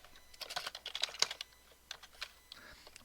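Fingers type on a computer keyboard in quick irregular bursts of clicks close by, busy at first and then thinning to scattered taps with short pauses.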